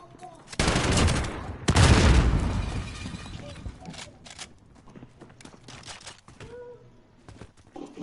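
Gunfire in the video game Call of Duty: Modern Warfare, with two loud close bursts of shots early on and then scattered quieter shots and clatter. Whispered voices can be heard between the shots.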